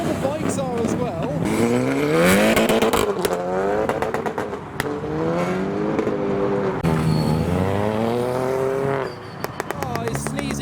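Modified cars and motorbikes pull away from a busy car meet in a city, engines revving and rising in pitch one after another in a steady stream, loud and close, with people talking over the traffic.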